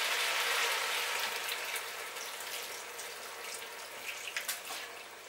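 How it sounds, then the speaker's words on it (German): Water pours into a pot of potatoes while cooking Dampfnudeln, a soft, fairly faint splashing and trickling that tapers off, with a few light drips near the end. "Ein bisschen Wasser rein."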